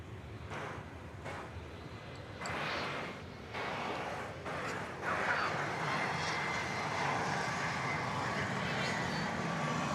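An airplane taxis through a right turn onto runway 18 left at DFW Airport, producing a steady engine roar that swells and holds loud through the second half, with talking over it.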